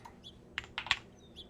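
A few scattered keystrokes on a light, quiet keyboard during a typing test, with a cluster of clicks near the middle standing out over faint background noise.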